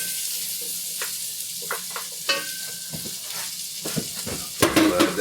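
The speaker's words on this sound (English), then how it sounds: "Now, I want to toss in the onions." Onions dropped into a hot, sizzling pan with carrots and celery nearby, a constant frying hiss broken by clinks and scrapes of a utensil and a louder crackle near the end, close up.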